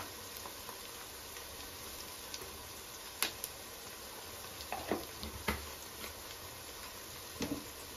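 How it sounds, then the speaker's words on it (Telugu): Onions with turmeric frying in a pan, a faint, quiet sizzle with a few sharp clicks and stirring knocks scattered through, close but soft, with no voices. "పసుపు వేసిన తర్వాత మళ్ళా కలుపుకొని ఉల్లిగడ్డ బ్రౌన్ కలర్ వచ్చినాక మగ్గింది బాగా."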